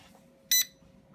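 A Ktaxon gun safe keypad gives a single short, sharp electronic beep midway through an otherwise quiet moment, close and clear.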